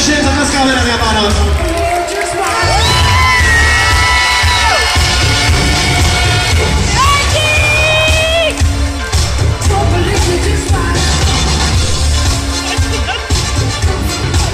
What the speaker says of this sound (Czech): Obrovská gratulace všem, zatleskáme, dámy a pánové